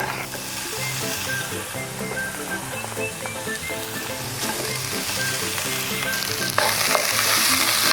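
Pork sizzling and frying in a heated frying pan, a steady crackling hiss with faint scraping stirs throughout and no talk.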